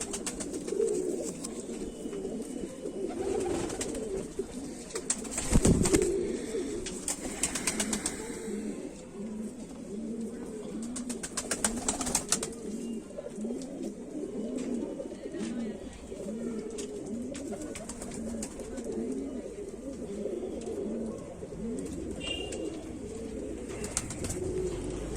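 Kamagar (Kamangar) pigeons, the crested show breed, coo in a steady, continuous low murmur at close range, with a few brief louder flutters or wing movements mixed in.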